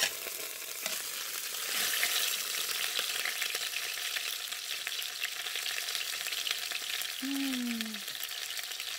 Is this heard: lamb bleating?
no